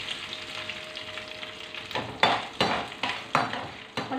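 Curry leaves and dried red chillies dropped into hot oil for tamarind rice, crackling and sizzling in a burst of sharp spitting pops after a quieter stretch, close and fairly faint overall.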